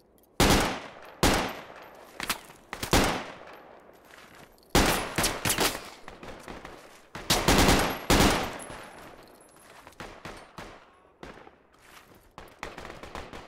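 Rifle gunfire in the tactical shooter Project Reality during co-op infantry combat: loud, sharp bursts and single cracks in irregular clusters, with busier rapid firing toward the middle and quieter scattered shots near the end.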